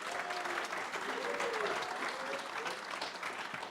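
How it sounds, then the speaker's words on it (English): Audience applause at a brewing-business panel talk at the 2018 Great American Beer Festival, a steady wash of clapping lasting the full stretch at moderate level, with no one speaking over it. "So a round of applause for these guys."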